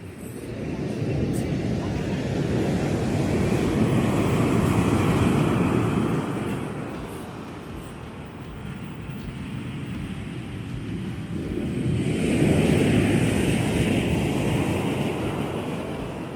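Sea waves wash against basalt rocks on the southern Iceland coast, a broad, steady surf roar that swells twice as breakers roll in, loud and close with wind, no voices.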